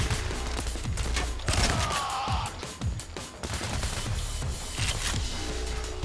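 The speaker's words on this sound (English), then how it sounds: "I'm gonna use the shotgun." Gunfire in the heist shooter game PAYDAY The Heist, with shotgun blasts mixed into a dense, continuous barrage of shots and crashes, sharp repeated reports over busy background action.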